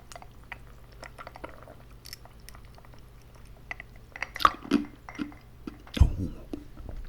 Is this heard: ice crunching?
yes